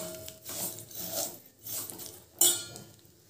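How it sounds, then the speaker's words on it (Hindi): A spoon stirs sewaiyan vermicelli frying in hot ghee in a pan, making soft rhythmic scraping strokes up close, quiet, with one sharper metallic clink near the end. "घी गरम हो गया है, हम इसमें सेवैया डालेंगे। इसे 2 से 3 मिनट तक चला लेंगे।"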